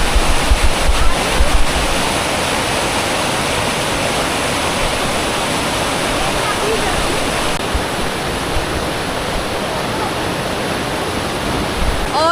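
A rushing glacier meltwater stream near Gilgit, Pakistan, gives a loud, steady, close roar of churning water that fills the whole stretch without pause.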